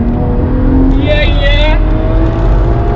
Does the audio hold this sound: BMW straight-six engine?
yes